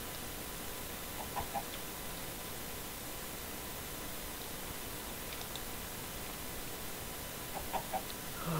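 A chicken in the video game Minecraft clucks in short bursts, a couple of faint clucking calls early and late over a steady hiss of background noise.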